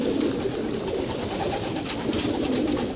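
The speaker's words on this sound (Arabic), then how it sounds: "كذا الحمام مرتاح." Racing pigeons in a loft after a race coo continuously, a dense, close chorus of overlapping throaty calls with no voices over it.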